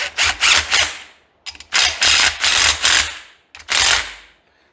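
A ratchet tightens bolts on a Fairmont motor that locked up, quick bursts of rapid clicking in three groups separated by short pauses, close and loud, with no talking.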